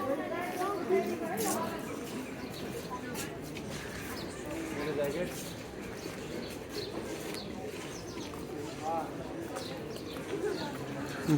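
Pigeons at Durbar Square in Nepal coo softly amid a steady wash of crowd chatter and voices, with the bird calls mixed low into the busy open-air bustle.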